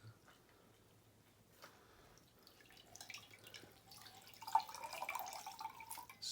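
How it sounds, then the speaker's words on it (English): A flannel cloth is dipped into water and lifted out, giving soft, faint drips and splashes that grow a little busier toward the end, close and quiet with no talk. "So we want to grab our cloth or our flannel, put it in water."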